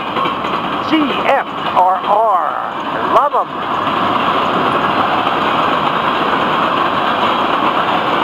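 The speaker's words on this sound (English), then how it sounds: "You can hear the wheel clatter." Steady rolling rumble of a passing freight train with boxcars, continuous wheel clatter, someone speaking briefly over it near the start.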